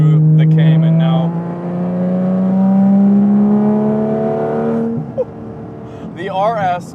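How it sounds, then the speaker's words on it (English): A Porsche Cayman GT4 RS's 4-liter naturally aspirated flat-six engine drones steadily with rising and falling harmonic tones, loud and close, with a brief voice near the end. "It's a 4-liter naturally aspirated flat six."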